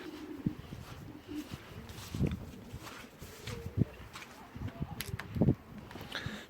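Pigeons in a stock loft coo softly and intermittently, with low throaty calls, light rustling and shuffling nearby, fairly faint and without speech.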